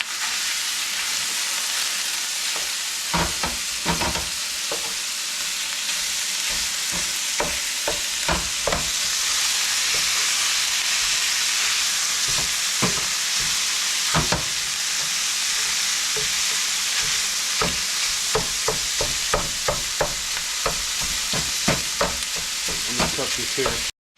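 Ground meat with garlic and Italian seasoning sizzles steadily in a pan, a continuous loud frying hiss broken by repeated scraping clicks of stirring, with no talking.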